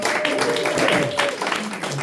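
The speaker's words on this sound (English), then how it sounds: "So, everybody give a round of applause." Audience at a community meeting applauding, a dense steady patter of clapping hands across the room with a few voices and a faint tone mixed in.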